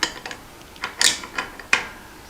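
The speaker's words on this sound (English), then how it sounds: "then we can use our crank puller again and thread it right in there" A crank puller being threaded into a Schwinn Airdyne pedal crank during bottom bracket repair: a handful of sharp metallic clicks and ratcheting ticks at irregular intervals, close and fairly loud, no voices.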